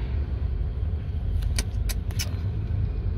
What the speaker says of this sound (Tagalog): Grabe ang traffic dito.